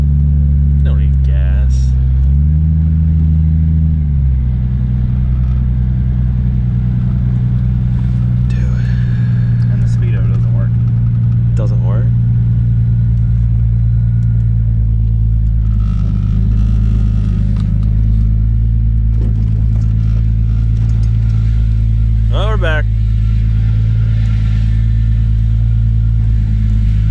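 A Mk3 Toyota Supra engine rumbles steadily at close range while driving around the block, with brief revs rising near the start. Voices talk intermittently over the engine.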